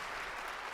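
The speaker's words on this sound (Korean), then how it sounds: "박수 해주세요." A church congregation claps in a brief, steady burst of applause during a Korean worship service, with no voice over it.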